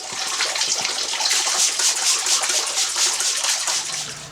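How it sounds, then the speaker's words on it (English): Fresh dechlorinated tap water pours through a red colander into an aquarium, making a loud, continuous splashing gush close by that holds steady throughout without talk. "now I'm going to top up with fresh dechlorinated tap water using my special red colander"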